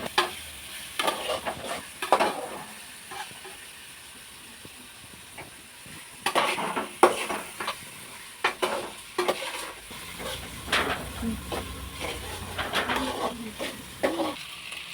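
Onions sautéing in a pan with a steady sizzle and hiss, stirred in irregular bursts of scraping and clatter that come and go over about fifteen seconds.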